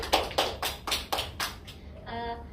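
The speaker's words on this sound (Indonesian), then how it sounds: "Kita beri tepuk tangan" Classroom applause for a student, a short burst of five or six clear, evenly spaced claps that fades into quiet room tone.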